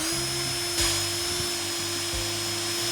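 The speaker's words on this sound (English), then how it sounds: "Now, let's get this drilled out." A drill boring into a green aspen wood block to seat it on a lathe screw chuck gives a steady high whine with low thumps and a few brief bumps, close and alone.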